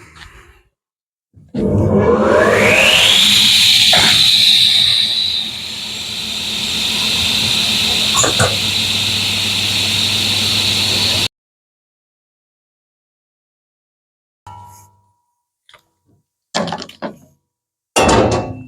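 A table saw blade spins up with a rising whine, settles into a steady high hum and cuts through wood, then coasts down and stops, followed by a few short knocks.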